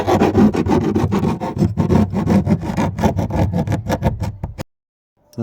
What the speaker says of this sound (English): You just need to cut out these bits with the jigsaw